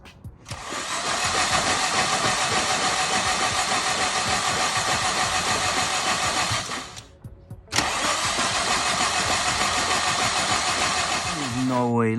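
Turbocharged Honda S2000 with a flooded engine cranking over at length, a steady loud starter churn that stops briefly near the middle before cranking resumes, close to the car.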